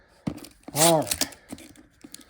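A plastic bag of LEGO pieces is torn open by hand, giving a brief crinkling rip close by, surrounded by a speaking voice.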